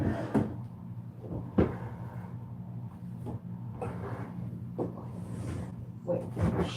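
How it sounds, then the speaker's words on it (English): Drawers in an art workspace slide open and shut several times, giving sharp separate knocks and bumps in an irregular rhythm against a quiet room. "So many drawers."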